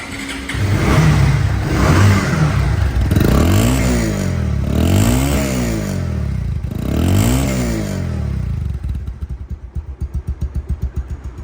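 A Bajaj Pulsar DD 2021 motorcycle engine revs up and down in several loud, close bursts, then settles into a steady lumpy idle near the end, with no voices.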